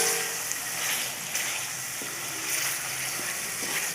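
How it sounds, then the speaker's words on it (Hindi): Chicken pieces frying with masala in hot ghee in a pot, a steady close sizzle with soft stirring scrapes throughout, no voices. "मुर्गी को अच्छे तरीके से भून लेना है"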